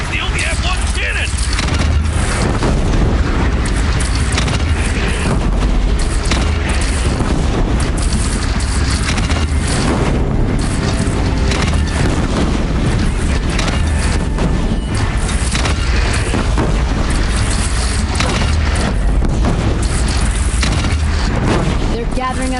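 Cannon fire and explosions in the Horizon video game make a dense, loud, continuous roar of booms and crashes alongside battle noise, with a voice speaking through it.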